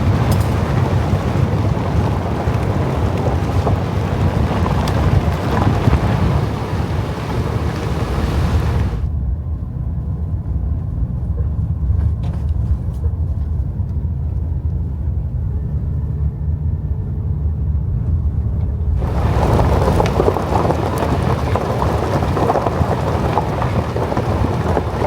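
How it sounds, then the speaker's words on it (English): A vehicle travels a remote gravel road through mountain country on an overlanding trip, making a steady, loud broadband roar and rumble that dips to a duller, muffled stretch midway before returning full. "So far, so good on this gravel road here."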